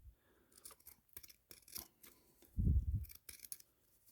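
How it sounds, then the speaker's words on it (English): Scissors make several close, crisp snips while cutting a narrow strip of fabric stiffened with dried tacky glue, with a louder handling thump partway through. "I'm just going to cut this little strip, maybe a little more narrow"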